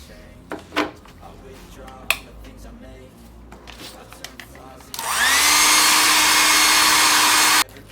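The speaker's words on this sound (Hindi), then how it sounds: "और अब मैं इसको ड्राई करूँगा हेयर ड्रायर से अच्छे से" A hair dryer drying a washed printer head from a Brother MFC J2320 printer switches on after a few scattered clicks and handling knocks, then blows a loud, steady whooshing hum for several seconds before cutting off abruptly.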